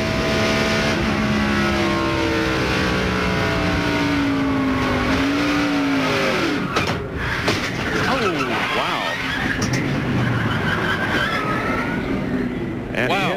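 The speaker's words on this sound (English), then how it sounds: "Rich Bickle has spun up in turn number 3, and here it is from his onboard camera" Onboard sound from a NASCAR stock car spinning in turn 3 at the 1997 Brickyard 400 at Indianapolis: a loud, close engine roar that holds steady, then wavers and sweeps in pitch as the car spins out.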